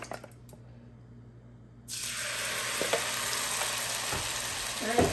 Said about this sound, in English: Just stir it really well.